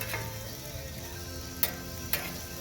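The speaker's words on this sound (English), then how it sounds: "Inside of here, it was frying really hard." Steady low sizzling hiss of shakshuka frying on a Tribal Fire Grill, with two sharp metallic clicks or taps standing out near the end.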